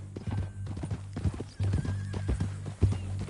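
A horse in the video game Red Dead Redemption 2 clip-clops close by with hooves thudding in an uneven rhythm, then gives a loud neigh near the end.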